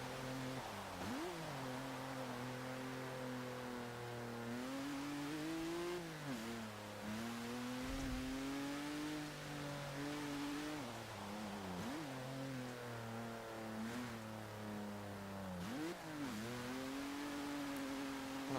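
A 2017 Lincoln Continental in Forza Motorsport 7 revs its engine alone, rising and falling through gear changes in repeated waves of acceleration, clear and steady throughout.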